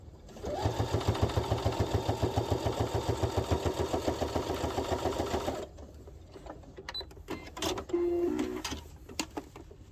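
A sewing machine runs a steady fast burst of rhythmic stitching for several seconds, topstitching along the edge of a children's wallet, then stops, followed by quiet handling clicks and rustling of fabric.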